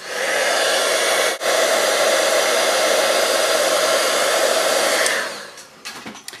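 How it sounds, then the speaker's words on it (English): A heat tool blows hot air in a steady, loud whoosh for heat embossing a card, with one short break early on, before switching off near the end. "I'm going to go ahead and heat emboss this."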